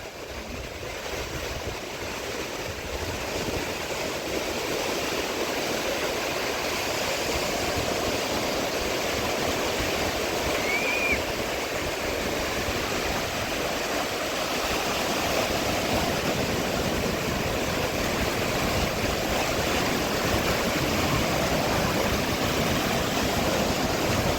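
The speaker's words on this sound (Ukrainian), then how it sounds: "Хвилі настільки сильні" Continuous heavy roar of strong Irish Sea surf and crashing water at Cahore Point, Ireland, in August, broad and unbroken, building slightly and staying loud throughout with no voices.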